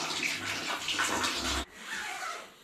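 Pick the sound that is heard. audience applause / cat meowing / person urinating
person urinating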